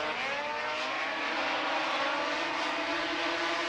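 Snowmobiles race down the backstretch of an oval at Eagle River, a continuous loud, rasping engine roar with a broad buzzing whine that holds steady throughout.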